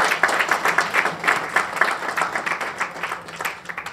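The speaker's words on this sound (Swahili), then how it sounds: "Tupigie makofi mengi," A seated audience at a network launch ceremony applauds, a steady, dense wash of many hands clapping at close to moderate distance, lasting throughout.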